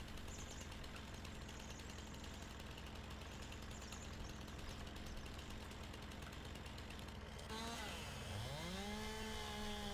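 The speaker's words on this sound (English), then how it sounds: "Let's go and get that chainsaw and chop this up." A chainsaw from the video game Farming Simulator 19 cutting a tree, droning at a steady high rev for several seconds, then revving up and down in rising and falling sweeps near the end, with no talking.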